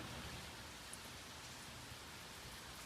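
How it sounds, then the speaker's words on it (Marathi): Dense, steady downpour of heavy rain, a continuous hiss with no pauses and no voices. "काय डेंजर पाऊस पडू लागला स्पीड मध्ये एकदम"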